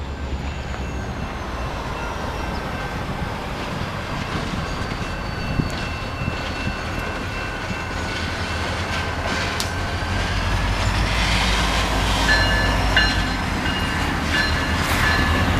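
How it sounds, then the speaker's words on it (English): Freight train passing behind a viewing spot at Fresno Yosemite International airport, a steady low rumble with wheel and rail tones that swells slightly toward the end, continuous and moderately distant. "That's a train behind us, a freight train."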